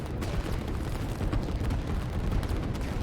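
Artillery explosions in the strategy game Line War, a dense continuous rumble of overlapping booms and blasts at steady loudness, with no talk.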